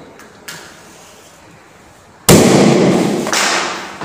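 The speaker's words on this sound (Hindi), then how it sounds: "H2 गैस है फायर के साथ रिएक्ट करके पॉप साउंड की आवाज निकाला है" Hydrogen gas collected in a test tube ignites at a matchstick with a sudden sharp pop, followed by a loud rushing burst that tails off over about two seconds, preceded by a faint scrape of the match.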